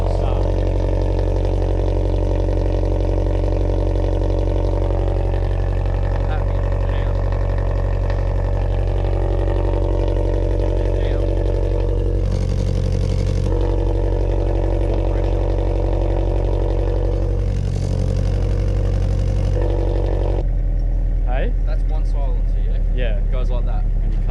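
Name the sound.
car engine running with newly installed exhaust front pipe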